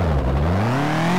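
A DeLorean Wastelander car in the video game Turbo Dismount drives with a steady engine drone whose pitch climbs smoothly as it accelerates, loud and close, with no talking.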